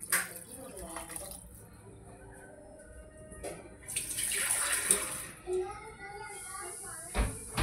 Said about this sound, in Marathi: आपण 2 ग्लास पाणी टाकूया.